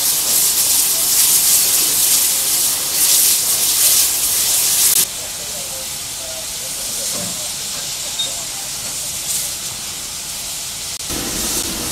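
Steam hisses loudly for several seconds, then drops to a quieter hiss with rumbling train sounds as two steam locomotives, 1501 and 6695, move off with an early morning goods train at a Swanage Railway gala.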